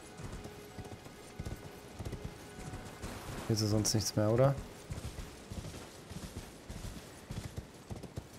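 Rhythmic hoofbeats clip-clop steadily throughout as a horse runs in Elden Ring on PS5, with a brief whinny in the middle and someone talking over the top.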